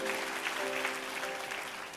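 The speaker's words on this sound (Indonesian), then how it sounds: "oke boleh tepuk tangan dulu" A church congregation at an Indonesian service claps together in steady, moderately distant applause that fills the short moment.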